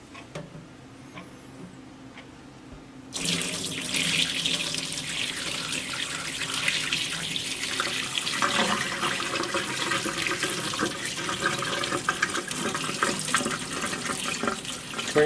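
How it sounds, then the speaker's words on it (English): Water drains off soaked fodder seeds in a steady rushing pour that starts abruptly after a few seconds of quiet and keeps running loud and close until the end. "so now I'm going to drain it again."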